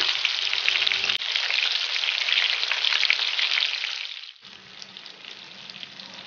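Flour-coated peppers frying in hot oil give a loud, steady, crackling sizzle that fills the whole clip, then settles to a softer bubbling hiss near the end.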